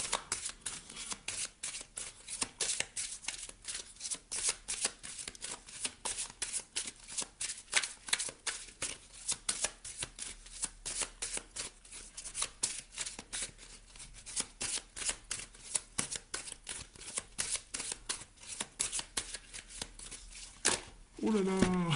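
A deck of Mystic Woods oracle cards is shuffled by hand in quick, crisp riffles and slaps that repeat steadily at close range for a long stretch, with a voice speaking near the end.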